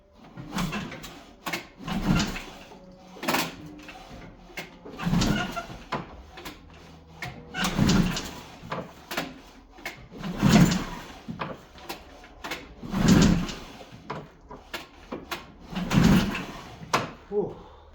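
The recoil starter cord on a Ski-Doo Mach Z 800 snowmobile that has sat unused for years is yanked repeatedly, about seven rough, rasping pulls with a steady rhythm, close up, without the engine catching.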